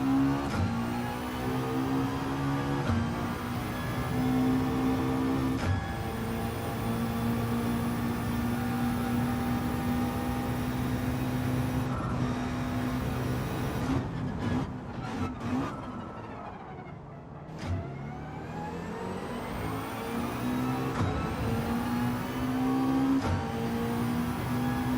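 A McLaren race car in Gran Turismo 7 lapping a track, its engine roaring steadily at high revs, pitch rising and falling through gear changes and corners, with a brief dip and lift in the sound partway through; no talk.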